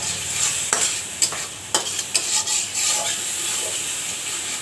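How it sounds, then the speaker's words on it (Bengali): Spices with turmeric powder sauté in a pan for a taro (kochu mukhi) mash, a steady sizzle broken by several sharp scraping stirs of a spoon, close and fairly loud, with no voices. "দিয়ে ভালো করে মশলাটাকে কষিয়ে নিচ্ছি"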